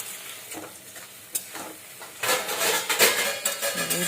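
Leafy greens (note shaak, a Bengali leafy vegetable) being stirred and fried in a pan, with a soft sizzle that swells into loud, busy scraping and crackling in the second half, with no voices.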